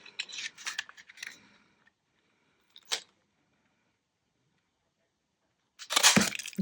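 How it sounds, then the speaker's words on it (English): Scissors cut a divot into card for a mini multi-pocket project, heard as a few sharp close snips and crinkles in separate bursts with quiet gaps between them. "I'm going to cut a divot in these two."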